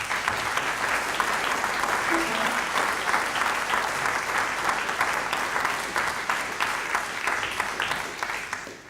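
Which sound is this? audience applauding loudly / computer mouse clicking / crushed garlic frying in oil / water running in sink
audience applauding loudly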